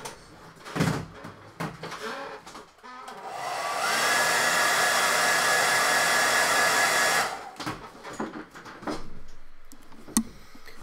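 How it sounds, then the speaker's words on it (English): A hair dryer blows in a steady loud rush for about three and a half seconds, bracketed by quieter handling clicks and knocks before and after. "So hairdryer time again."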